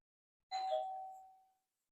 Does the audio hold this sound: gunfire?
no